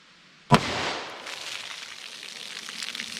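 A single sharp 10mm Hornady Custom gunshot fired into a ballistic box of test material, one loud close crack followed by a short, noisy decaying tail.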